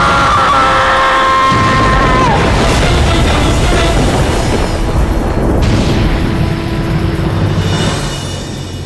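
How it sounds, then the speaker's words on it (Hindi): A loud, deep explosion in a Hindu mythological TV drama, with a sustained rumbling roar, layered with dramatic swelling tones and bursts that slowly fade. "ये विस्फोट कैसा?"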